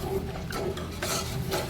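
A spoon stirs buttermilk kadhi mixture in a pot, making soft scraping and sloshing sounds in short uneven strokes, close by and fairly quiet, with light clinks of utensil against metal.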